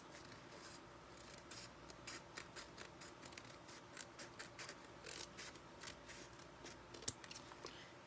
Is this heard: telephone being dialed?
no